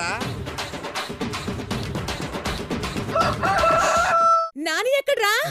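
A rooster crows loudly twice near the end, its rising, wavering call cutting over steady background sound with people talking.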